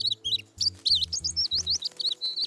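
A baby bird chirps in a rapid run of high, wavering tweets that continue without pause, close and clear over a low humming background.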